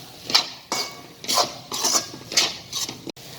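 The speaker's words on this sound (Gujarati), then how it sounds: "આ બધું આપણે પહેલાં મિક્સ કરી લઈશું." A metal spoon stirs green chillies, red chilli powder and spices for an aloo matar sandwich filling, producing about six rhythmic clinks and scrapes against the bowl, close and clear, ending with a sharp knock.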